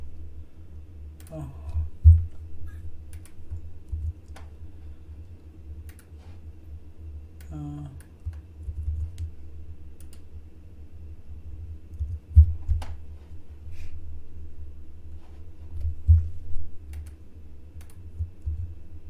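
A URL is typed on a computer keyboard as scattered, fairly close key clicks and taps over a low steady hum, with brief pauses between bursts.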